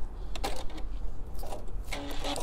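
A home sewing machine runs a short lock stitch through minky fabric for a stuffed pillow, giving a brief, close, rapid mechanical whirring burst with small stops and restarts.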